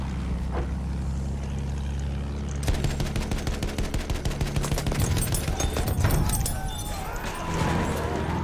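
Rapid machine gun fire rattles from a trench in Battlefield 1, bursts of repeated shots starting suddenly after a low engine-like rumble and continuing loud and close for several seconds, with voices talking over it.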